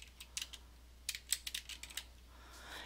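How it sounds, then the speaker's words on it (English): Keys clack on a computer keyboard as a web address is typed, a quick, uneven run of light taps with short pauses, close and fairly quiet, with no talking. "I'm just going to type it in."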